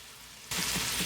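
Ginger and garlic hit a hot pan while a chicken korma is being cooked: after half a second of quiet, a loud, steady sizzle and crackle of frying starts and continues to the end.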